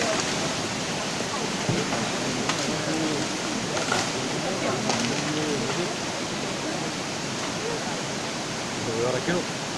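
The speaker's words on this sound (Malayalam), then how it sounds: "വെള്ളം വരുന്നേ ഉള്ളൂ. ഇതാ മേലെ വരുന്നേ ഉള്ളൂ." Floodwater rushes down a hillside during a landslide in Kerala, a loud, unbroken roar of churning water close by, with people shouting and talking anxiously over it.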